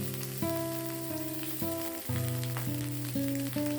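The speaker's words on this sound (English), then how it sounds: "Add whole spices, that is 1 inch cinnamon, 2 green cardamom and 2 cloves." Whole cinnamon, green cardamom and cloves fry in hot oil in a pan on medium heat, giving a steady close sizzle under prominent tonal music for the whole stretch.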